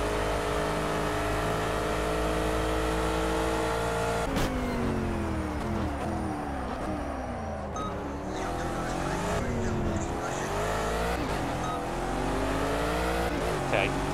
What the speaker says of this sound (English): a bit difficult to accelerate from almost a standstill. You do get a lot of wheel spin with this car